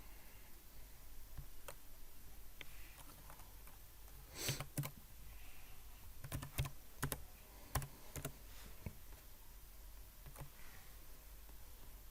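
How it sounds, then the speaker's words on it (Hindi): Someone types code on a computer keyboard in a quiet room, producing faint, scattered key clicks with a few short, louder clusters of taps over a low background hiss. "मैं नोट पैड में कोड टाइप करने के बाद यहाँ पे आपको दिखाता हूँ"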